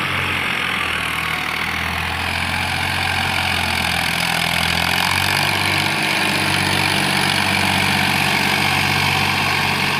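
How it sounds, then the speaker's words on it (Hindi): A Farmtrac 60 PowerMaxx tractor pulls a harrow in high second gear at about 1500 RPM, its diesel engine droning loud, steady and close for the whole stretch with a low rumbling throb and no talk. "ट्रैक्टर चला हुआ है, हाई के सेकंड गियर में"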